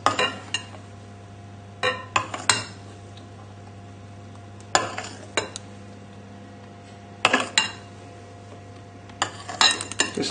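A metal spoon folds egg whites into a lemon curd soufflé mix in a bowl, giving intermittent clinks and scrapes against the bowl in small clusters, moderately loud over a low steady background hum, with no talk.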